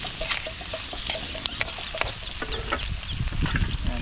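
Skinless blue crabs fry in a pan, giving a continuous crackling sizzle dotted with sharp pops and spits throughout, at a moderate, steady level.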